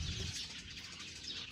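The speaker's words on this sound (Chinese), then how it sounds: "一群麻雀都在偷狗子的饭吃，叽叽喳喳的，太多了。" A flock of sparrows raiding a dog's food bowl chirps and twitters continuously, the bird calls faint and somewhat distant in a quiet setting.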